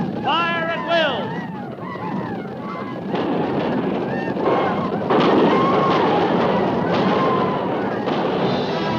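Musket volleys crackle from a cavalry fort's defenders driving off a charge in an old-time radio western drama set at Fort Laramie. Broad, dense bursts of firing roll on after a brief stretch of voices at the start.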